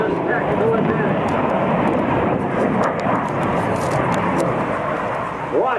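An F/A-18C Hornet jet roars through a tight turn at the Florida International Airshow, a dense, loud, sustained rumble heard at a distance, with a commentator's voice talking over it.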